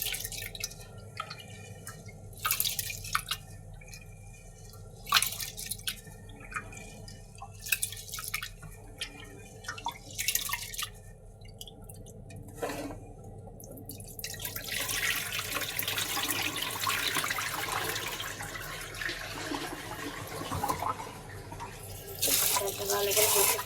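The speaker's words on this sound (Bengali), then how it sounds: "এখানে আমি চাল ধুয়ে পরিষ্কার করে এখন ভাত বসিয়ে দেবো।" Rice is washed by hand in a kitchen, with tap water running and dripping into a sink. Steady splashing and trickling continue throughout and grow busier and louder in the second half.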